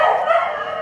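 A pit bull at a rescue lets out a single drawn-out whining yelp close by, loud and alone.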